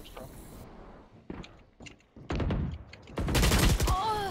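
Gunfire from the video game Valorant in a scrim match, with rapid bursts of shots that grow louder and denser toward the end, broken by brief pauses and game sounds, with players talking over it.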